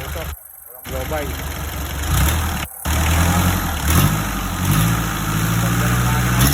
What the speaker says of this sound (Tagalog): Ganda ng makina, pumapalag siya.